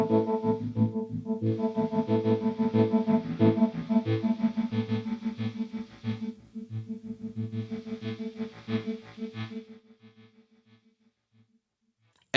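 A Hologram Electronics Dream Sequence guitar pedal plays back a recorded rhythmic pattern, with distortion drive swelling in and dropping out over a steady pulsing sequence that fades out at the end, with no voices.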